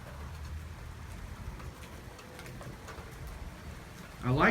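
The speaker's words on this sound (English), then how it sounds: "I like the rain, but I'm tired of the hail." Heavy rain in a severe thunderstorm, a steady hissing wash of drops on surfaces throughout, fairly soft and even, with a brief louder burst at the end.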